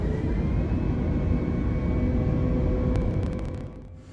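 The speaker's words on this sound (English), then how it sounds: "For takeoff, I'm going to go parking brake off and full takeoff power." Engines of a CaptainSim 717-200 in a flight simulator game roar at full takeoff power, a loud, steady low rumble that holds evenly, then fades slightly at the end amid faint clicks.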